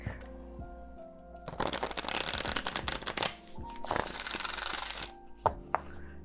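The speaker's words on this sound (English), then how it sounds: "Nice, steady, beautiful shuffle here." A broken-in tarot deck being shuffled by hand in bursts of riffling card flutter, close and fairly loud, with short pauses between rounds and a few taps at the end.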